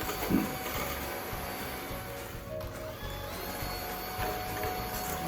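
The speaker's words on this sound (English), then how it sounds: "That took about 6 minutes total to beat up those egg whites." An electric mixer beats egg whites with a steady, droning motor whir and a faint rattling chatter of the beaters, continuous and close for several seconds, with no speech.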